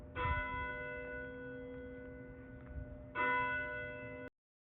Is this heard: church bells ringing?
yes